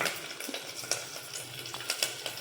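Steady, crackling sizzle of eggs frying in hot oil, close by, with a few scattered clinks and scrapes over it.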